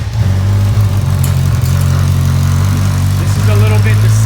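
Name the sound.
motorcycle engine idling without exhaust pipe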